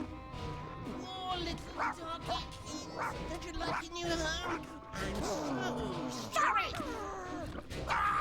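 A dog yelps and whimpers after being hurt in the video game Heart of Darkness, a series of short, sharp cries amid crashing game effects, with a voice talking over parts of it.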